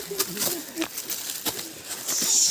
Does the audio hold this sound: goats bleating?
no